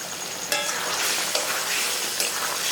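Chopped tomatoes fry in a pan for a vegetarian jackfruit and soybean curry, giving a steady close sizzle with three sharp stirring clicks spaced about a second apart.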